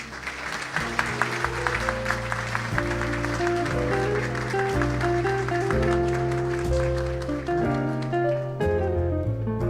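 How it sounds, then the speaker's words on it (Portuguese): Sustained applause fills a ceremony marking the 70th anniversary of Cremers as Dr. Arnaldo José da Costa Filho is honored, steady and fairly loud, with tonal music playing beneath the clapping throughout. "vamos aplaudir o Dr. Arnaldo José da Costa Filho"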